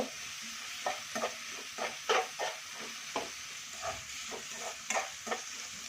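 Mango rice seasoning with turmeric fries in a pan while a spoon stirs it, giving repeated soft scrapes and taps over a gentle sizzle, fairly quiet and close with no talking.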